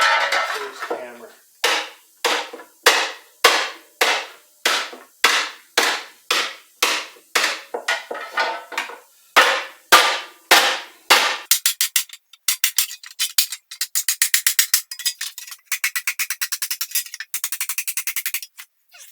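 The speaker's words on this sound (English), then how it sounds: "Use this plastic face hammer." Plastic face hammer striking and flattening bowed metal on a stump: a long run of loud, evenly spaced sharp whacks, then a faster, lighter burst of rapid taps.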